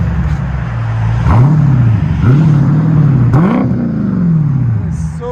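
A 2021 Dodge Challenger Scat Pack with a 6.4L V8 and aftermarket exhaust revs several times in quick bursts, its deep, loud rumble rising and falling close by.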